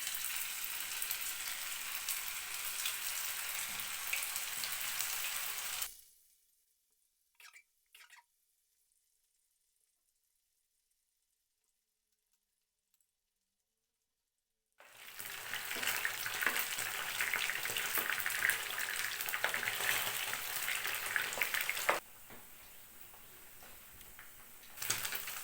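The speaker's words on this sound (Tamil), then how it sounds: "இப்போ நம்ம பன்னீரை ஃப்ரை பண்ணலாம். அதுக்கு நான் கொஞ்சமாக எண்ணெய் ஊற்றிருக்கேன்." Paneer fries in a little oil in a nonstick pan for a pepper fry, giving a steady close sizzle that cuts out to near silence for several seconds, then returns just as strong.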